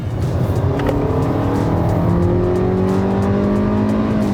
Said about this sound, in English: The engine is quite noisy, it sounds quite rough